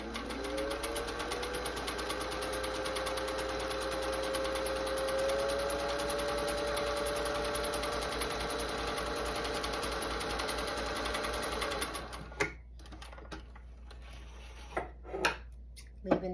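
A vintage Singer 201 sewing machine stitching a designer outfit, running steadily and smoothly for about twelve seconds before stopping, followed by soft clicks and fabric handling.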